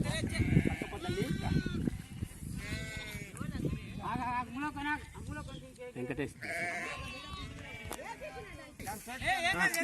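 Many sheep bleat continuously during flock vaccination, overlapping shaky cries near and far, with people talking faintly underneath.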